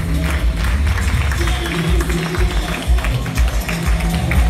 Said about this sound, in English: Let's give them a big hand, please.